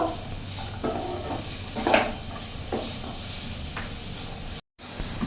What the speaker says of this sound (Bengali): এরপর আমি ক্যাপসিকামটা দিয়ে দেবো। ভালো করে নেড়ে ছেড়ে নেব।